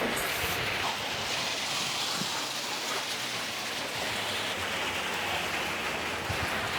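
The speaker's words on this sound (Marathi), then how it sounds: "खूपच छान पाऊस पडतोय आज." Steady rain falls outdoors in a dense, even hiss with scattered drop patter, heard alone without any voices throughout.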